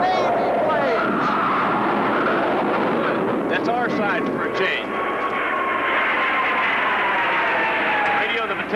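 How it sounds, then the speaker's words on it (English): Navy military aircraft from the film Inchon roar loudly overhead in a sustained, swelling engine drone, while voices shout beneath it. "Navy planes! Navy planes!"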